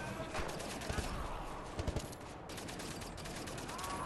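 Rapid gunfire from a gun in Wolfenstein: The New Order, a continuous rattle of shots with a few sharper cracks standing out, layered over game sound effects.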